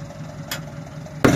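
A Ford tractor strains to pull a stuck 1545 rice harvester free at the edge of a paddy field, its engine giving a steady mid-pitched drone before a sudden loud rough burst at the end.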